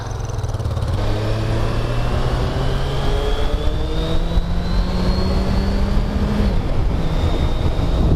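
A 1990 Suzuki GSX-R 1100 motorcycle running steadily while ridden, its engine drone holding a constant loud level, with the pitch stepping up and sliding between gears and strong wind rush throughout.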